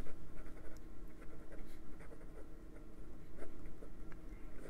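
A Jinhao 100 Centennial fountain pen writes in reverse on paper, producing soft, close scratchy strokes in an irregular rhythm, faint and with no voices.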